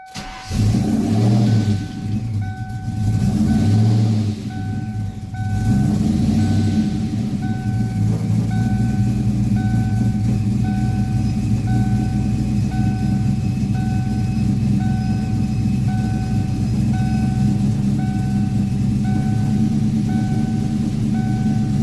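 A supercharged 1998 Ford Mustang Cobra engine holds a steady high idle, loud and close, with a low rumble and a faint whine, after a brief uneven rev at the start.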